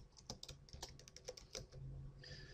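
Rapid clicks of typing on a computer keyboard, a quick run of close keystrokes in a quiet room, ending with a brief faint electronic tone.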